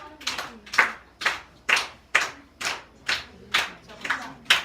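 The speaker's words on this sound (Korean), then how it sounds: "박수 쳐줘요." A church congregation claps in unison, about ten sharp, evenly spaced claps in a steady rhythm, close and clear with no talking over them.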